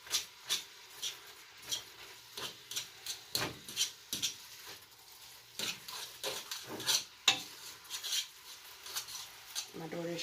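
A spoon stirs food in a pot while cooking at home, scraping and knocking against the pot in a steady run of soft, close strokes with small clinks, and no talking.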